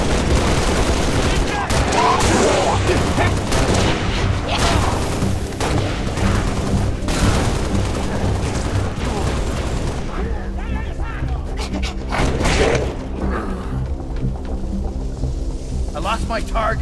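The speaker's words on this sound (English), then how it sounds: "Hostile fire on my position." Dense video game gunfire from Halo: Reach rattles continuously through a chaotic battle, heavy bursts and booming blasts layered with explosions, loud and sustained with voices and effects mixed in.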